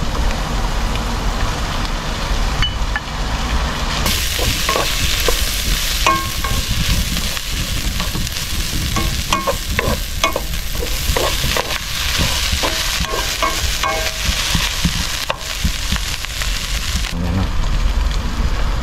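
Shredded pork is stir-fried in a pan with pechay, giving a loud, constant sizzle throughout, with repeated scraping and clinking from stirring.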